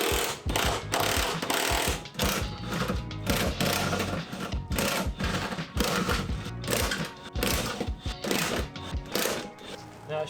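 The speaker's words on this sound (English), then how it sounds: "you have to remove these 4 bolts in the back on each side" A ratchet works loose the rear subframe bolts on a Lexus SC300, a steady run of quick metallic clicks and whirring bursts, loud and close, continuing almost without pause.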